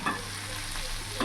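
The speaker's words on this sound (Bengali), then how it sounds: "চুনো মাছটা ভালোভাবে মিশিয়ে নিয়েছি" A spoon stirs fried small fish through bitter gourd and potato in a pan, a steady close sizzle with scraping at the start and end.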